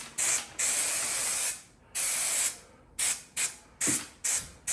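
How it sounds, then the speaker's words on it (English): Spray adhesive hisses onto fabric during an Audi TT Mk1 roadster interior trim job, in about seven bursts: two long sprays followed by several shorter ones, each loud and close, separated by silence. "So I'm just going to spray mount this, spray mount the fabric."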